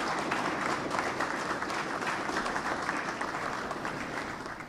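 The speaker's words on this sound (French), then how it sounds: "pour lesquels je demande spécialement à l'atelier des applaudissements" Sustained applause fills a Masonic lodge as members of the Grand Orient of Haiti clap together, a dense, even patter of many hands that holds steady throughout before easing slightly at the end.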